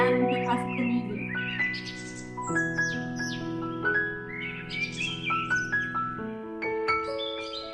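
Birds chirp and tweet in bright, busy bursts over a steady bed of sustained tones, probably classical music. A voice may be faintly mixed in underneath.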